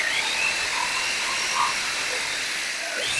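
A power tool cuts metal wall sheeting along a marked line during a shop build, a steady high whine with a harsh grinding edge that holds at an even level, close up, with no talking.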